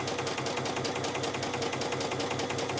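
A sewing machine runs a steady, rapid stitch, sewing a gathering row along the top of fabric for a child's dress, a continuous rhythmic whir and clatter, close and even throughout with no talking.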